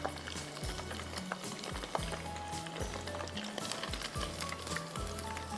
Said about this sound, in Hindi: ये देखिए बीफ हमें अच्छा खासा फ्राई करना है